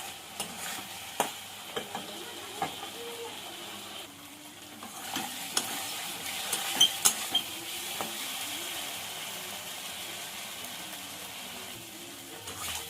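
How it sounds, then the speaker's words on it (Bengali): Potatoes stir-fried with spices in a pan, a steady sizzle broken by scraping stirs and occasional sharp clinks of the utensil against the pan, heard alone at close range. "আলুগুলো দিয়ে মশলা দিয়ে ভালো করে কষিয়ে নেব।"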